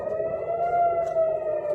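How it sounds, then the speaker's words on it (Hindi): Air raid sirens sound across Tel Aviv during an overnight Iranian missile attack, a loud steady wailing tone with layered harmonics holding throughout, no voices over it. "जोरदार सायरन बज रही है पूरे टेल अवीव में।"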